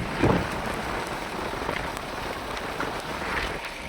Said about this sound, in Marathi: पाऊस पण आलाय मित्रांनो, तर कॅमेऱ्यावरती पाणी पडलंय